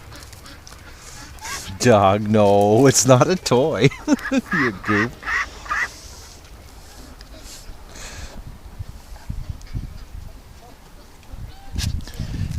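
A little duck quacks in a run of loud, nasal calls near a playful dog, then falls quiet while someone talks over the scene.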